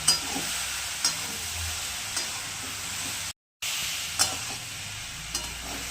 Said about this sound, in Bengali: তারপরে এই গরম জলটা দিতে হবে।